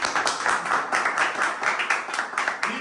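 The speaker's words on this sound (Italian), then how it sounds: "Signori, facciamo un applauso." A small group claps in uneven bursts for a plate of pasta, the hand claps close and fairly loud with a few voices mixed in.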